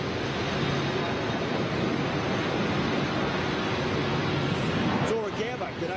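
Large jet airliner with Rolls-Royce Trent engines roaring steadily at an airport, a sustained broad rumble and whine heard from a terminal terrace, with a voice talking over it.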